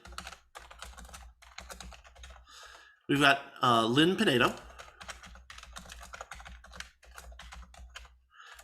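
Typing on a computer keyboard during a roll call at a party convention, quick soft key clicks running steadily under a person reading names aloud.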